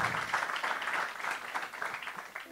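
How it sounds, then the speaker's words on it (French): Audience at a French conference session applauds, a soft, somewhat distant patter of clapping hands that holds steady through the moment. "On vous applaudit."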